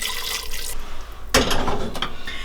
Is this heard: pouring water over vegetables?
yes